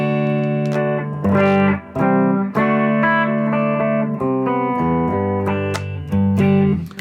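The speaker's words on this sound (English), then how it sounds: "I'm running through the little Tweed Deluxe with a Hall of Fame for reverb" Electric guitar played through a warm Tweed Deluxe tube amp with a Hall of Fame reverb pedal, chords and single notes ringing with a light reverb tail, steady and fairly loud, no voices.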